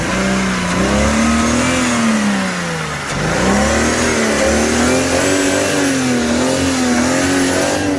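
A broken BMW's engine revs loudly and close, its pitch rising and falling in repeated swells with a brief dip midway, no talk over it.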